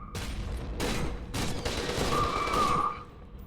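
Heavy gunfire in the video game FEAR 2, a few loud, booming shots and bursts spaced apart with a lingering tail, close and alone.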